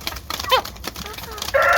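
A young rooster on a poultry keeper's plot in Keles, Tashkent, gives a brief, rough crow close by. Other chickens cluck and rustle faintly around it.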